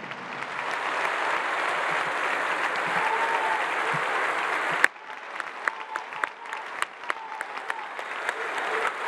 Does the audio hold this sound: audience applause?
yes